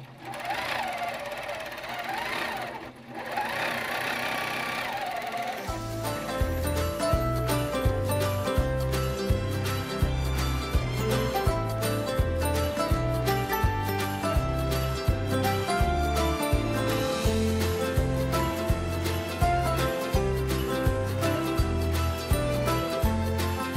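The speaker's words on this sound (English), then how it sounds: "I'm just going to stitch it out." A sewing machine stitches out a quilt triangle, running in a fast, even mechanical rhythm of needle strokes close by after a quiet opening, going on steadily to the end.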